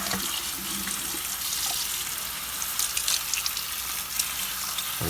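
Water pours steadily and close into the pot of a freshly repotted orchid, giving it a thorough dousing as a continuous hissing splash with no pauses and no talking.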